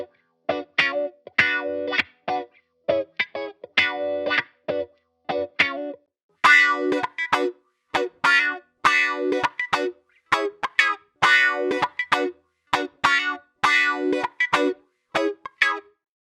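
Electric guitar processed through a wah-style effect built in Ableton, playing rhythmic plucked phrases with sweeping, vocal-like filter motion; a sparser first passage gives way after a short gap to a denser, brighter second run, loud and alone.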